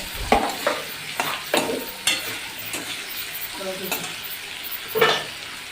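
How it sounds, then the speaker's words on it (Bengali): Sliced onion and tomato fry in hot oil in a pan for a spicy tengra fish curry, with a constant low sizzle broken by several sharp scraping stirs of a spatula at irregular intervals. "পেঁয়াজ টমেটো ভাজা চলছে"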